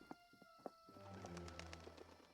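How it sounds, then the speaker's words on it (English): Caged birds coo in the video game Slender Threads, a soft layered cooing over a steady low hum, with light clicking taps early on. "Birds in the cage."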